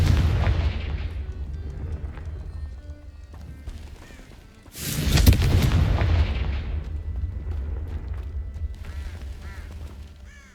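Confringo fire spells blast in Hogwarts Legacy: a loud fiery explosion opens, and a second, bigger boom follows midway, each trailing off into a rumbling decay.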